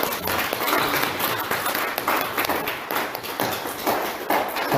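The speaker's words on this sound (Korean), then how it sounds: "우리 다 같이 한번 영광의 박수를 한번 올려드립니다" A church congregation applauding together in praise during a Korean worship service, a dense, steady wash of clapping close by that carries on without a break.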